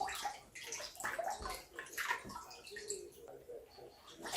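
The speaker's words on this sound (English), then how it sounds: "we are going to start first by washing our chicken thoroughly" Raw chicken being washed by hand in a bowl of water with fresh lemon juice squeezed in, giving continuous close splashing and sloshing with gurgles, with no talking.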